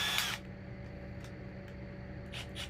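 A power drill fitted with a brush attachment whirs in a steady, continuous hum up close, with a short rustle at the start.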